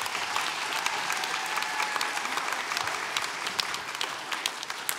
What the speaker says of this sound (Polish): bardzo mocne brawa